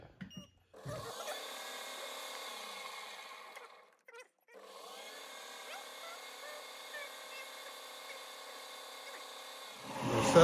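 A metal part for a six-cycle engine's fuel mixer turns on a lathe, its cutting pass a thin, steady whine with a short pause midway and a louder rise at the end, no talk over it.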